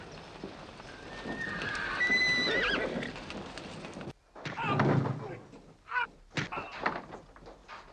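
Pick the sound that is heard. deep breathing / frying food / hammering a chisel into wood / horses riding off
horses riding off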